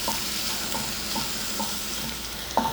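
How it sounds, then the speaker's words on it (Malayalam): Sliced onion sautéing in a pan for Kerala-style squid curry, a dense steady sizzle with a series of regular scraping stirs and a sharper clack at the end. "ഒരു സവാള നീളത്തിലരിഞ്ഞത് ചേർത്ത് കൊടുക്കാം. ഇത് നന്നായിട്ടൊന്ന് വഴറ്റിയെടുക്കാം."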